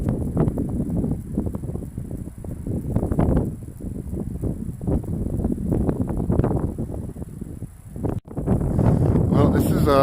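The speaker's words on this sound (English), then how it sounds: "See, the wind just knocked me back." Strong gusts of wind buffeting a microphone at Sunrise Trailhead on the Pacific Crest Trail, loud and continuous low rumbling with surging gusts, a brief dropout, then steady blowing again.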